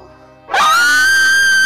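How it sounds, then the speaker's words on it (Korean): A sudden high, sustained scream from the mother character in a Minecraft family role-play bursts in after near silence and holds loud and steady to the end. "엄마 비명 소리야!"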